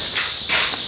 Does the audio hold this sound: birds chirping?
no